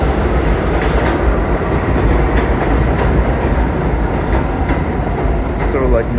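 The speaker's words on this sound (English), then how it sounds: "here comes an express 3 train to Brooklyn" An express 3 subway train to Brooklyn pulls into a station, a loud continuous rumble with rail clatter and brief squeals of wheels, faint voices underneath.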